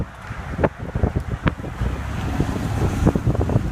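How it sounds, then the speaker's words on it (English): Strong gusting wind in a severe storm, a rough continuous roar buffeting the microphone with sharp bursts, loud and close, with no talking. "Wind's picking up real quick,"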